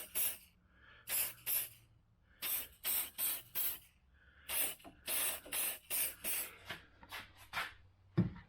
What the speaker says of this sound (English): So this is a silicone lubricant.